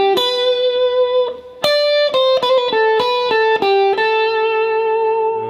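A clean-toned electric guitar plays a lead lick alone, a quick run of plucked single notes and short bends, each attack sharp and ringing briefly before the next.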